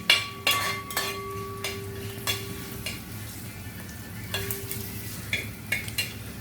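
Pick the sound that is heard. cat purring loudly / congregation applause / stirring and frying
stirring and frying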